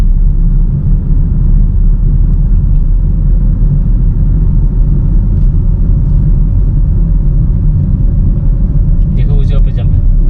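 A car rolls forward toward a speed breaker during a driving lesson, its engine and road rumble steady and close throughout, with a brief brighter rattle near the end.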